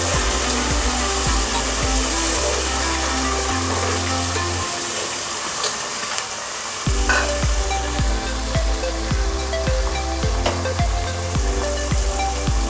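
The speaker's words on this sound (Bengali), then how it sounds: "তারপর নাড়তে থাকবো।" Onions and green beans fry loudly in a pan for vegetable biryani, a dense continuous sizzle broken by rhythmic spoon scrapes and stirring strokes, briefly easing in the middle before resuming strongly, with no talk.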